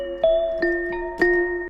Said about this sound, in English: for the hook, we're going to layer the chords with this bell sound, make it a bit more magical.